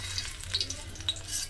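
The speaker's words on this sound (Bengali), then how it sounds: "উচ্ছেগুলো একটু ভালো করে ভেজে নিলাম।" Pieces of bitter gourd fry in oil in a pan, giving a steady, close sizzle with small crackles and faint stirring scrapes over a short stretch.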